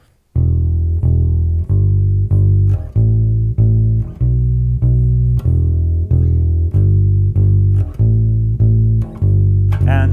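An electric bass plays a simple beginner line, picked with one finger, as a series of evenly spaced, clear low notes repeated at a steady pulse with short gaps between them.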